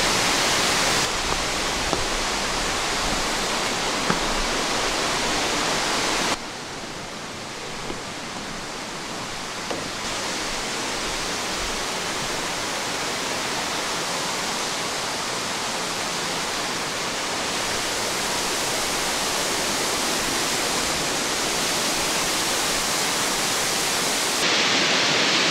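A waterfall and its plunge pool produce a dense, unbroken roar of falling water, loud and steady throughout with slight shifts in level.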